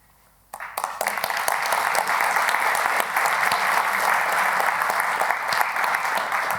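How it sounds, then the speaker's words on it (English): Conference audience at the Scalar Conference breaks into applause after a brief quiet moment, a sudden onset swelling into sustained, dense clapping from a full room. "applause was really earned"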